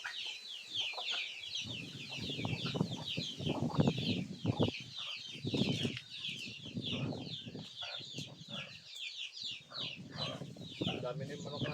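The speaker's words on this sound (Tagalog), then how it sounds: "Ang dami na yung manok natin dito eh." Chickens cluck steadily and close by, with bursts of wing flapping and a busy farmyard feel, while people talk in the background.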